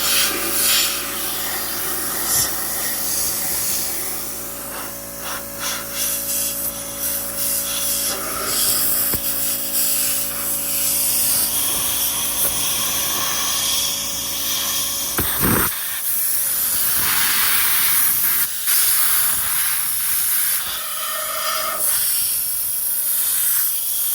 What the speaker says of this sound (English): I'm just going through, blowing this all out with compressed air before we go and paint it.